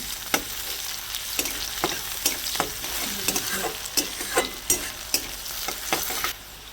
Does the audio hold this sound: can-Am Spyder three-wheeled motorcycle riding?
no